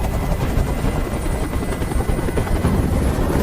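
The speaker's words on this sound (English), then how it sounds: "Tell that helicopter to get out of here." A helicopter in Detroit: Become Human hovers close by, its rotor thumping in a dense, continuous chop with a low engine rumble underneath.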